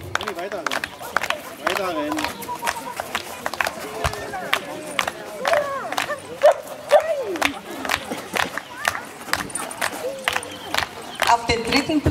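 Dogs at a show ring bark and yip in short scattered bursts while a judge speaks over a loudspeaker, with handlers moving around and crowd murmur in the background.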